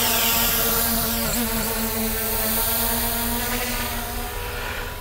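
An MJX Bugs 3H camera drone flies low with a continuous, close, buzzing whine of spinning rotors that shifts slightly in pitch, with no talking.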